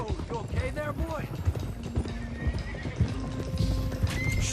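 In a Red Dead Redemption 2 cutscene, horses whinny and snort while hooves clop steadily on the ground, near and busy, with other game sounds and voices mixed underneath.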